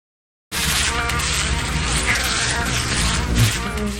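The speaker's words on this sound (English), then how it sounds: "Wasps! Wasps everywhere!" Swarming wasps buzz loudly and continuously in the video game Brunhilda and the Dark Crystal, a dense close drone starting abruptly after a brief silence and holding steady throughout.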